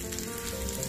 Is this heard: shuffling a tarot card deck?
no